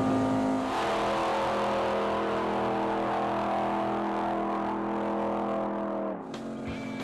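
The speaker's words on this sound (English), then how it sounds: "the Hemi Under Glass has completed another 10-second, 110-mile-an-hour run" Hemi Under Glass drag car powering through a quarter-mile run, a loud, sustained engine roar with steady harmonic drone for about six seconds before it abruptly cuts and drops to a lower rumble.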